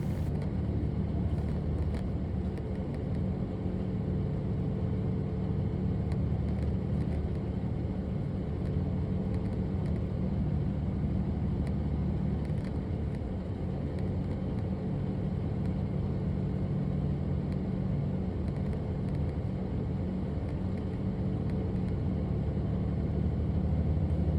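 A gravel hauling truck with a brand new engine drives along a dusty mountain road, giving a steady, fairly quiet low rumble mixed with wind buffeting for the whole stretch.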